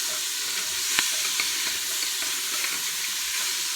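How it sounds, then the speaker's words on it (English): Onions sauté in a pot with a continuous bright sizzle, while a spoon stirs them, giving several soft scraping taps at irregular intervals. "we're going to stir this around a minute and let those onions saute down and get kind of translucent and tender"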